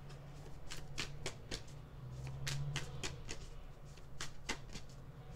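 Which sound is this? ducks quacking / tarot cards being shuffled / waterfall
tarot cards being shuffled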